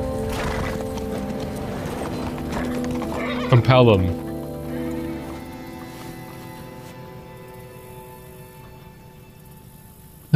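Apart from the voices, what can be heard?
horses in the movie Logan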